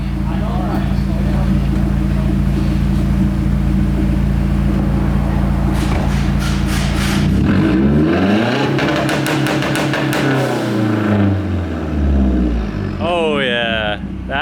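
A slammed Mazdaspeed 3 engine idles loudly and steadily, then is blipped through a couple of quick revs that rise and fall before settling back, close and prominent throughout.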